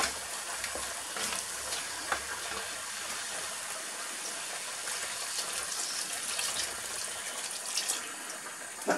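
Beef stock being poured into a hot pan of stroganoff mixture, a continuous rushing, splashing pour with steady sizzle underneath, close and fairly loud throughout.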